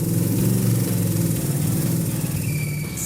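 An AC Cobra's V8 engine runs in a workshop, a loud, steady low rumble with a pulsing firing rhythm that holds close and constant throughout.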